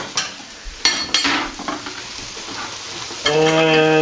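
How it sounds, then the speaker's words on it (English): Breadcrumbs, mushrooms and prosciutto get stirred in a pan, giving a few sharp utensil clacks and scrapes over a soft sizzle, ending with a brief tonal ring, close and brief. "we're gonna stir that around. Some of the mushrooms and the prosciutto"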